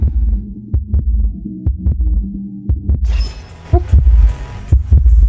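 A video game heartbeat in The Outbound Ghost thumps in regular double beats, deep and loud, and a brighter crackling layer joins it in the final seconds.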